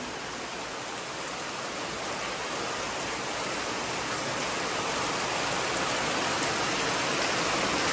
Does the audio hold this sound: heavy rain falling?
yes